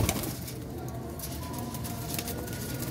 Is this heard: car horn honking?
no